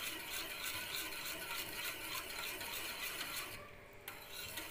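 Cumin, garlic and salt being mixed into buttermilk for ambil: a continuous, fairly quiet rasping and scraping of stirring that pauses briefly near the end.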